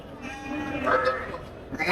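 Sheep at a livestock market bleating, a drawn-out nasal bleat rising in the middle with another starting at the end, heard amid the noise of the market and nearby voices.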